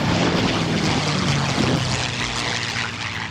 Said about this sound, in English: The highlight of the event was a formation flyby with an MU-2 and Philadelphia attorney Jim Beasley's P-51 Mustang